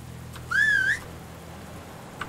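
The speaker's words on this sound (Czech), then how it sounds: "Můžeme tady písknout na koně." A single rising-and-wavering whistle calls a horse in the medieval survival game Medieval Dynasty, clear and fairly loud for about half a second over a quiet outdoor ambience.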